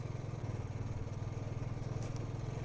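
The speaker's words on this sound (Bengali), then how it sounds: "বাইক তো আর্তনাদ করতে করতে উঠছে রে ভাই।" A motorcycle engine labours on a steep mountain climb on the Batal to Losar road in Spiti, a close, steady, throbbing drone that holds its strained pitch without letting up.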